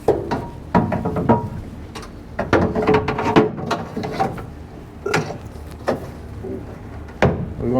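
Ratchet and bolting noises as a large part is fastened onto the front of a rotor: a run of sharp clicks, knocks and metallic clanks in bursts, close and fairly loud, with no speech.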